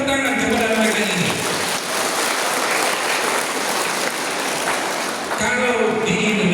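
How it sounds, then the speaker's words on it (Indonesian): Audience at a motivational event applauds for the teachers present. A loud, sustained wash of crowd clapping fills the middle of the clip, with someone speaking briefly before and after it. "Kita berikan tepuk tangan kepada mereka ini"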